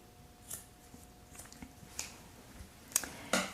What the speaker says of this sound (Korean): 여기 이 사망줄을 자르십시오.